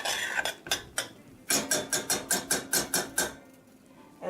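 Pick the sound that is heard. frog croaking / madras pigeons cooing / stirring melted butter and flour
stirring melted butter and flour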